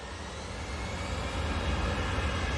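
Airliner jet departing Manchester Airport for Geneva, a continuous loud roar of engine noise that builds slightly and holds steady with no talking.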